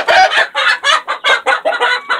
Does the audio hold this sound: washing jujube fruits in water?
no